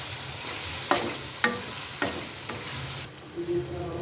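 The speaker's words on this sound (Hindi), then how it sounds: "अब हम इन तमाम चीज़ों को अच्छी तरीके से मिक्स करेंगे।" Pasta sauce ingredients being stirred together in a pan, a few distinct spoon scrapes and knocks over a steady sizzle of frying, with the sizzle dropping off sharply near the end; no talking.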